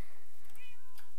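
Brief, clear meow of a kitten among the cats in a video game, one rising cry that is near and fairly loud over quiet game background.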